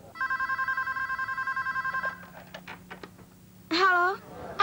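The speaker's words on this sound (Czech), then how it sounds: "Vyzvání to." A telephone rings with a rapid, buzzing double-tone bell pattern for about two seconds, then stops; after a pause a short tonal sweep and a voice follow.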